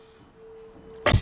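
A single short, sharp cough bursts out after a second of quiet room hum.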